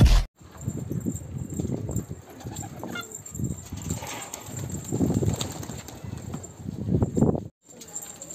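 Pigeons move about inside a coop, with soft wing flaps and shuffling under a steady low background hum, fairly faint and continuous, with no talking.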